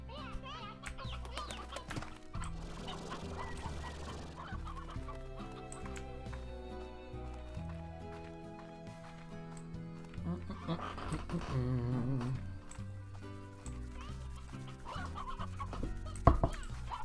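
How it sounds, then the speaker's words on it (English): Roosters and chickens clucking in the video game Slime Rancher, repeated clucks mixed with upbeat game music and effects, moderately loud, with intermittent talking over them. "Don't need all these roosters."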